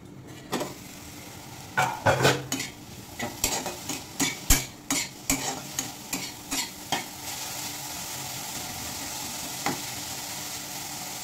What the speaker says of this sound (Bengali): 2 মিনিট মতন ঢেকে একটু ভেজে নেব।